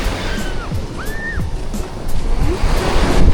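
Sea waves wash onto a beach in a loud, continuous surf that swells toward the end, with wind and a few thin whistling tones over it.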